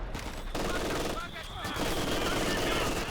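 Vickers machine gun fire in a Company of Heroes 2 match, sustained bursts of rapid shots mixed with other battle noise, loud and continuous with a short gap early on.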